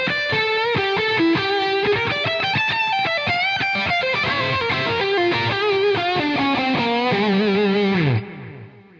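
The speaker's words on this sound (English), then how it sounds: "turn on the XTS Imperial Overdrive. That gives me the thickness I need up there." Electric guitar through an XTS Imperial Overdrive pedal plays a dense, thick run of notes loud and up close, ending on a sustained bend that fades out.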